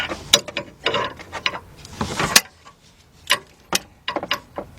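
A ratchet wrench set to tighten clicks on an engine bolt in a tight spot during a partial rebuild of a 2003 Jeep Liberty Sport 3.7. The close, sharp clicks come in uneven bursts with short pauses between them.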